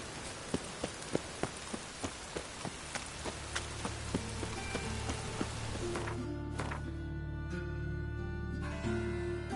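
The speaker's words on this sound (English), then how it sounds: "Rain again." Rain pattering steadily in the open world of The Witcher 3, a dense wash of drops under a regular clopping of horse hooves that fades as a low musical drone swells in.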